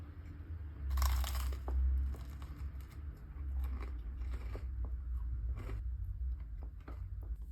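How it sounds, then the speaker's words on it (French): Toast spread with salted butter and honey being bitten and chewed up close, a few crisp crunches followed by steady, quieter chewing with no talking. "Notre petit toast est prêt. On va pouvoir manger ça rapidement. Délicieux le combo beurre salé miel."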